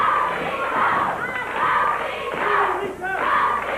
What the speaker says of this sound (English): Crowd chanting, "Go, Steve, go!"